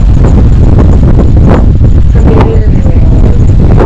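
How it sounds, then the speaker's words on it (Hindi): Cold wind blows hard across the mountain top at Bazmar Top above Kokal near Abbottabad, a loud, constant roar of gusts buffeting the microphone with no letup. "ठंडी हवा चल रही है"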